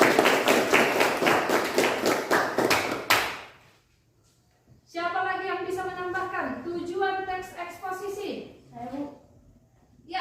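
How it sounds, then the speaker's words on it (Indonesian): Classroom students clap together for a classmate, a dense burst of applause lasting a few seconds that stops abruptly; a teacher then speaks. "Ya, bagus. Tepuk tangan buat temannya."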